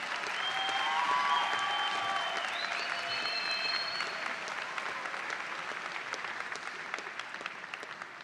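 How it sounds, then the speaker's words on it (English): An audience at a university spring commencement ceremony applauding graduate students, a dense, sustained wash of clapping that holds steady and slowly tapers over several seconds, with faint tonal sounds briefly overlapping early on. "Let's have a round of applause for these graduate student graduates."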